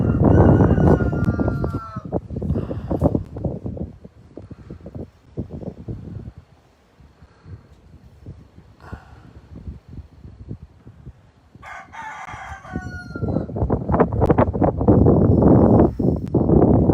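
A ranch rooster crows repeatedly, loud and nearby at the start and again near the end, while other farm sounds and clucking continue between calls.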